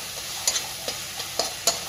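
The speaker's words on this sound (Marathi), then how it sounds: "आता हे थोडंसं परतून घ्यायचं." A paste of green chili, cumin and garlic with turmeric fries softly in oil. A quiet, steady sizzle runs under a few light scrapes of stirring, spaced roughly half a second apart.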